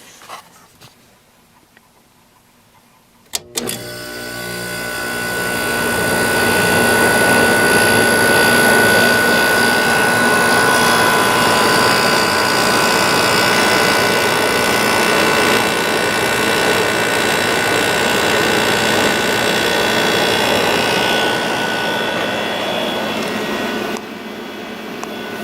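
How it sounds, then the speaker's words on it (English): A 2002 Whirlpool 5,000 BTU window air conditioner's compressor kicks on with a sharp click after a few quiet seconds, then settles into a loud, steady hum that runs on unchanged and alone. "time to start the compressor up"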